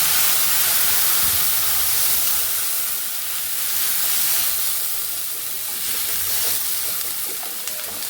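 Water poured into hot oil tempered with spices in a pan hisses and steams loudly and steadily, a broad close-up sizzle that holds for several seconds and eases only slightly midway.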